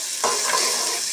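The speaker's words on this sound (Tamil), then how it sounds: "பாதி பெரிய வெங்காயத்தை எடுத்து இதில் போடுறேன். ஓகேங்களா? இது நல்லா வதங்கட்டும்." Half a large onion sizzles and sautés in a pan as the start of a potato egg fry. A close, continuous frying hiss with a brief stirring scrape near the start, and no talking.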